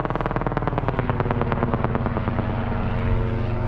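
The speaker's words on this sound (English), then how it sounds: "That's the 4th helicopter I've seen today." A helicopter flies overhead near a golf course, its rotor giving a loud, steady rhythmic thudding chop with a continuous engine roar throughout, no voices over it.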